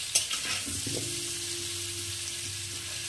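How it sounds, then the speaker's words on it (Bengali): Potato pieces fry in hot oil in a pan for a spicy chicken dish, a steady broadband sizzle with a few scraping stirs early on and a faint tonal hum beneath, close and continuous with no talking. "ভালো করে আলুটাকে এখন লাল করে ভেজে নেব"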